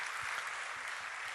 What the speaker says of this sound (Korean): 우리 사모님 일어나시고 박수하겠습니다.